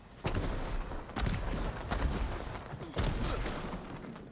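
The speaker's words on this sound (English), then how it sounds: "Those fireworks?" Fireworks in Ghost of Tsushima go off as several dull, booming bursts with crackling tails, about four blasts spread over a few seconds, moderately distant and fairly quiet, with no talk over them.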